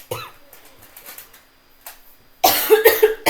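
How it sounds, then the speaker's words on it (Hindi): A sudden burst of harsh coughing, three or four quick close coughs from a teacher during a spoken lesson, after some quiet talk. "खांसी उठ गई।"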